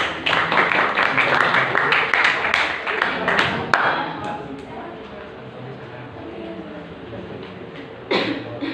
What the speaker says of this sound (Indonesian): Tepuk tangan dulu dong buat yang sudah berpendapat